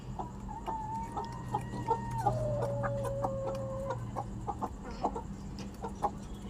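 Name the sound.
chickens clucking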